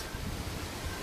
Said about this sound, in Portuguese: O vento!